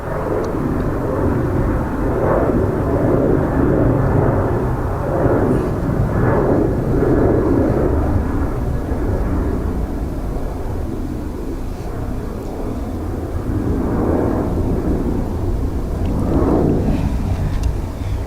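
An airliner departs Dublin Airport with a sustained, loud engine roar that swells and eases slightly over a long stretch, steady and unbroken, with no voices over it.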